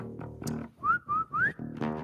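A person whistles to imitate a bird call: after some brief voiced sounds, three clear, sliding whistled notes ring out, each rising or wavering in pitch, followed by more voice.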